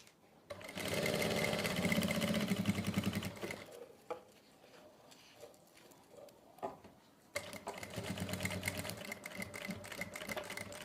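A sewing machine runs along a narrow salwar seam in two long, loud, steady whirring runs, close by, with a quieter stretch of light handling noises between them.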